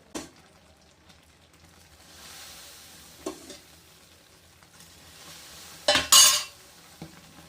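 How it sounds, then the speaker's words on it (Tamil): Mysore pak mixture is stirred in a pan as hot ghee is poured in, giving soft scraping strokes and a low sizzle, with a louder bubbling surge near the end and a few clinks of the utensil. "நம்ம கொஞ்சம் கிண்டிக்கிட்டு இருக்கும்போது ஒரு 2 நிமிஷம் கழித்து அந்த நெய்யை நம்ம அள்ளி ஊற்றிக்கிட்டே இருக்கணும்"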